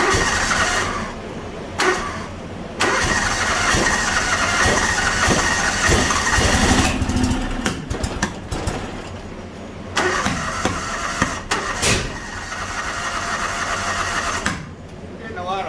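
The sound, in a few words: John Deere X724 riding mower engine popping and cracking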